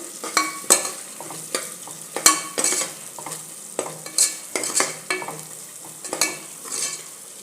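Turmeric, coriander-cumin powder and biryani masala stirred in a pan for egg biryani, a close rhythmic run of spoon scrapes and clinks against metal over a light sizzle, repeating steadily throughout.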